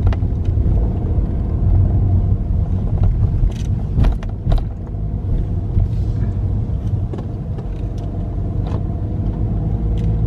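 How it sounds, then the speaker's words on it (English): Steady road traffic rumbles near a small plaza in Cumberland, Maryland, with cars idling and pulling out in a continuous low drone and a few brief louder passes, no talking. "A lot of traffic trying to get out of this little"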